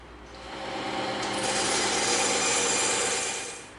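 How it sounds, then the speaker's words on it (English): A bandsaw cuts through a piece of EVA foam, a close, steady rasping hiss that swells in after a moment, holds for a few seconds and tapers off as the cut finishes. "we're going to want to cut this off on the bandsaw right here"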